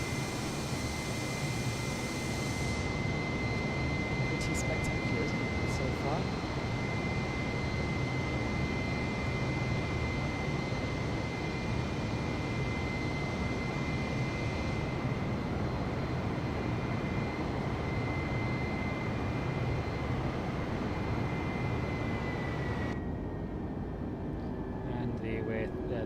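Airbus A320neo jet engines in cruise-climb in Microsoft Flight Simulator 2020, a steady loud cabin roar with broadband rushing noise and a faint whine that holds throughout, thinning slightly near the end as thrust reduces.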